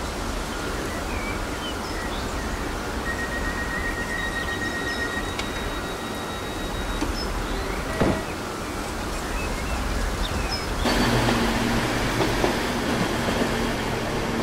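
A Class 321 Stansted Airport Express electric train in Transport Fever 2 runs along in a cab ride, giving a steady, loud rolling rumble with faint whining tones and a fuller, heavier roar in the last few seconds.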